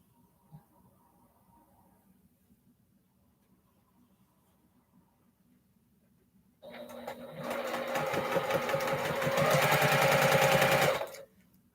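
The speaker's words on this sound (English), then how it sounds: "I could just sit here all day and sew and sew and sew." After a quiet stretch, a sewing machine stitching a baby quilt starts abruptly and runs loud and steady for about five seconds before stopping.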